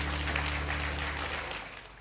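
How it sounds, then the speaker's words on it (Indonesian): A church congregation at a Sunday service claps together in a dense burst of applause that gradually fades, with a low hum underneath. "Tepuk tangan dong buat Allah kita."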